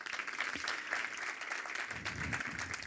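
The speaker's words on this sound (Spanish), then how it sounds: "un aplauso también para ella" Applause from a conference audience at a corporate study presentation, a moderate, fluttering patter of many hands that continues evenly throughout, somewhat distant and alone.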